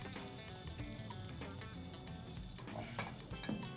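Oil and butter sizzling together in a hot pan while spicy spaghetti is being cooked, a steady close crackling hiss that holds at an even level throughout.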